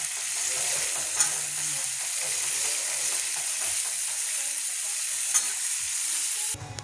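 Steady sizzling of a vegetable curry frying on a griddle, with a few soft scrapes of stirring, continuous and close, ending abruptly.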